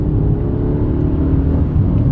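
A 2024 Kia Picanto engine pulls away in second gear, giving a steady, close, loud low hum and whir that holds evenly throughout without any voices.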